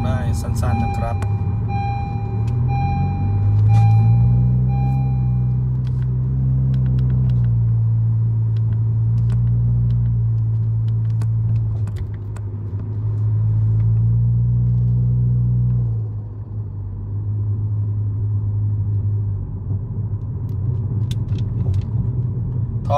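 A Honda Civic FC 1.8 with a CVT and an added turbo, driving on a road: a steady low engine drone and road rumble from inside the car that rises and falls smoothly, with someone talking over it.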